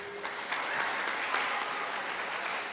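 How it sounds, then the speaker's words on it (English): Steady applause from an audience at a school academic awards ceremony, dense and continuous clapping filling the whole stretch at an even level. "let's give them an applause"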